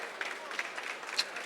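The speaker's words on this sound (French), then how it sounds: "on peut l'applaudir très fort" Applause from an audience at a live cooking demonstration at a food fair, a soft, steady spread of clapping heard at a distance, with a voice speaking over it.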